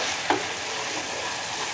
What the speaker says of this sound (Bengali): আমি মশলাটাকে সুন্দর করে কষিয়ে নেব।